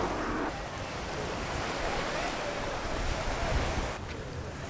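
Ocean waves on a beach roll in as a steady broadband wash, with wind noise buffeting the microphone throughout.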